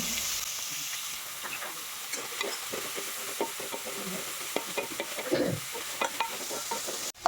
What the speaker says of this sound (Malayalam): നമ്മൾ വഴറ്റിയെടുക്കുകയാണ്